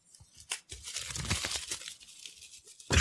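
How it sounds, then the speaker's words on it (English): Newspapers are shuffled and crinkled at a tiny news desk: bursts of close, dry paper rustling and tearing-like crackle, busiest in the middle, with a louder crumple at the very end. "Shuffling around his newspapers."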